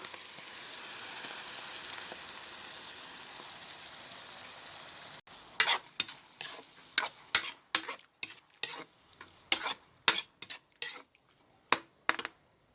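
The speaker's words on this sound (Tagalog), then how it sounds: "at sa puntong ito ilagay na rin natin ang tuna" Tuna fries in a pan for a simple tuna carbonara. A steady close sizzle runs at first, then about a dozen sharp utensil clinks and scrapes come in a loose stirring rhythm, with no talking.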